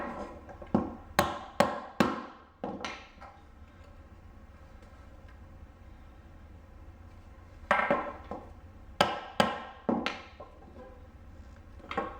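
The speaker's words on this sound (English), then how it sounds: "just hit with the hammer" A hammer strikes the edges of cut bird perch cube pieces in two bursts of sharp, loud, close knocks, about five in the first and four in the second, separated by a quiet pause.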